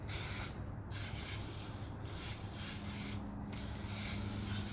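A steady aerosol spray of F9 BARC rust remover hisses close by onto an aluminum ramp, pausing briefly twice before continuing.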